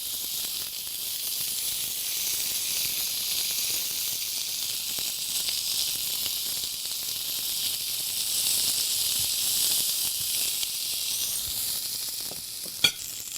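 Chicken shish kabob sizzling in oil in a pan, a steady bright hiss and crackle that runs continuously at close range, with a single sharp tap near the end.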